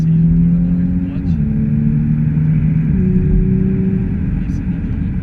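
A 2018 Audi RS5 with a V6 engine accelerates hard on a straight, its loud, close, steady engine drone stepping up through gear changes.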